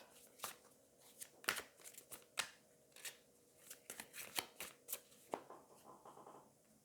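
Oracle cards are shuffled by hand: a series of quiet, crisp riffling snaps and flicks at irregular intervals, close and soft, with no talk.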